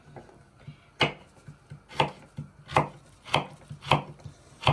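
Knife chopping carrots finely on a board while making fish soup, a series of sharp, evenly spaced chops at close range with no talking.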